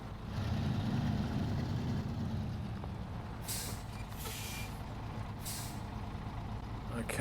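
Truck in the SnowRunner video game dropping off a trailer, with a steady low engine rumble throughout and several short hissing air-brake bursts in the middle, while a voice talks over it.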